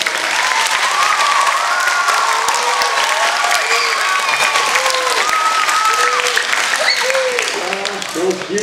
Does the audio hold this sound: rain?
no